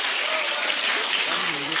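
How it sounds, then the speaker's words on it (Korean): An audience claps in dense, loud, continuous applause at a first-birthday doljabi event, with a voice faintly under it. "그 박수 더 크게"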